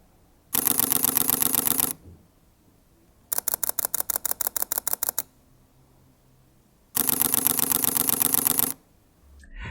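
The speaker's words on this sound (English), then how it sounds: "quiet the shutter actually feels when you're taking a photo" Mechanical shutter bursts from Panasonic Lumix G85 and G7 mirrorless cameras, heard as three rapid clicking runs: a dense burst, a slower evenly spaced series of distinct clicks, then another dense burst, crisp and close with silence between.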